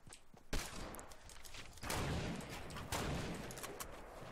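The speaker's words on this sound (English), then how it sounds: "Someone shooting yep. from across the lake." Distant gunfire across a lake in Fortnite Battle Royale, heard as repeated bursts of shots and rattling volleys over steady game ambience, with no talking.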